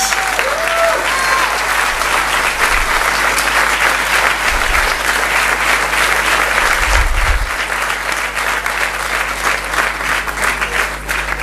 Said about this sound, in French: Je voudrais qu'on applaudisse très fort Mélanie.